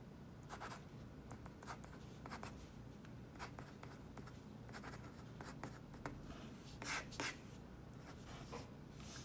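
A rollerball pen filled with fountain pen ink moves across Fabriano paper, making soft, close scratching strokes with short pauses and a few sharper scrapes, very quiet and without speech.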